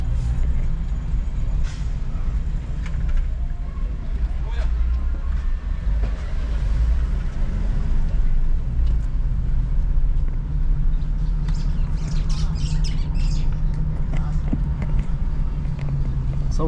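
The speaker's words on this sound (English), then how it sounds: "This is the Toyota Wish 1800cc." Toyota Wish 1800cc car driving through Karatina town, heard from inside: a constant low engine and road rumble with passing traffic noise, and a voice talking now and then over it.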